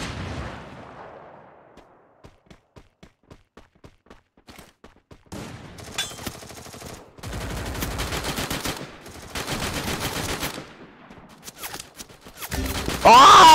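Gunfire in the battle game Garena Free Fire: a rapid run of sharp single shots, then dense bursts of automatic fire, loud and close, with a competitive custom match setting.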